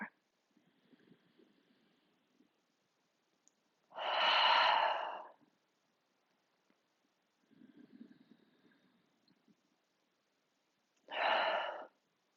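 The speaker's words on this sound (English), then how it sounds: "inhale through your nose and exhale, sigh your breath away" Two slow, deep breaths during a gentle seated yoga pose, each a quiet nasal inhale followed by a loud, breathy sighing exhale, close and alone in a silent room.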